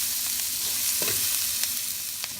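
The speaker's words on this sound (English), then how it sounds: "And then let's add our onions. Cook it for another minute." Onions fry in a pan while Filipino fish stew is cooked, a steady close hiss and sizzle with a faint scrape of stirring, no talk.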